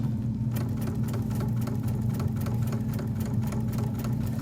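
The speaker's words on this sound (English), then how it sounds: "I'm going to stitch in the ditch and sew that on by machine" A sewing machine stitches binding onto quilted placemats, a steady close whirring motor with fast even needle ticks running continuously, no talking.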